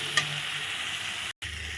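Fried potatoes are stirred into spices in a pan. A steady hiss of frying oil runs throughout, with a scrape near the start and a brief gap in the sizzle toward the end.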